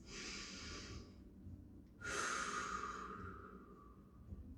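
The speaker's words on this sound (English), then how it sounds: "Good, 2 more breaths." Deep breathing during a gentle mobility stretch, two long close breaths with airy whooshing, the second stronger and trailing off, no talk.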